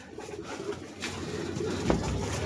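A pigeon coos softly nearby in a cage, a few low murmuring calls rising toward the end, with no talking.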